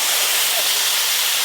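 Milk is poured into hot fried semolina in a pan for halwa, producing a loud, steady hiss and sizzle that fills the whole moment at close range.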